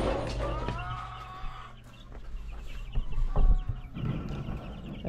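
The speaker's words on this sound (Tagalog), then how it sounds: "mga sisiw." Chicks and adult chickens cluck and cheep close by in a farm pen, with a steady layered chorus of overlapping calls running throughout.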